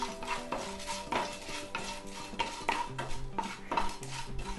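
A spoon stirs a tempering of curry leaves and asafoetida in a pan for cucumber carrot curd rice, scraping and clinking against the metal in a steady rhythm close by, with a faint sizzle underneath and no talk.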